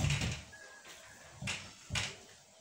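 Doors of a newly built wardrobe are opened: an initial clunk, then two brief knocks and rattles of the doors swinging, fairly quiet in a still room.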